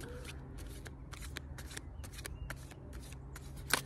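Cards are shuffled for a card reading in a quick run of close, crisp riffling bursts, each a short papery flutter, ending with a sharper snap.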